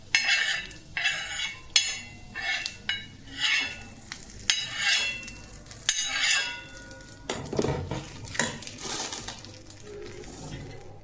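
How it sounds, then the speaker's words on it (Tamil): Hot tempering goes into peanut chutney in a kitchen, with a spoon scraping and stirring against a metal pan in a series of sharp clinks and scrapes, joined by a brief sizzle toward the end. "இப்போ வந்து நம்ம தாளிப்பை வந்து சட்னியில் கொட்டிடலாம்"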